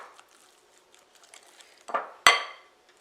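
Utensil scraping and clinking in a bowl while cake batter with crushed pineapple is mixed, soft quiet rustles building to a couple of louder scrapes and a sharp clink near the end.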